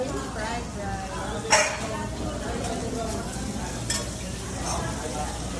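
Stir frying on a teppanyaki griddle: a steady sizzle with spatula scraping and metal clinks, two sharp louder clanks standing out, under nearby chatter.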